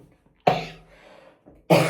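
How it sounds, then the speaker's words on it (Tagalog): Two harsh, loud coughs about a second apart, each a sudden broadband burst with a raspy tail, with quieter throat noise between them. "grabe ubo ko, grabe talaga, sobra"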